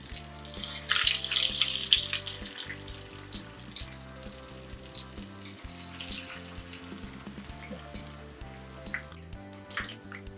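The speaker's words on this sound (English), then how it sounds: "take the taro balls and gently put them in the oil" Taro balls frying in hot oil, a bright crackling sizzle that swells early then settles into steady bubbling and spitting, with faint clicks and low background hum.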